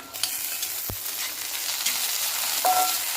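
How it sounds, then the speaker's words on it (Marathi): Bitter gourd pieces frying in hot oil with onions in a pan, a steady close sizzle with occasional stirring scrapes and a sharp clack of a utensil against the pan; no talking. "कारल्याच्या फोडी तेलात छान भाजून घ्यायचे"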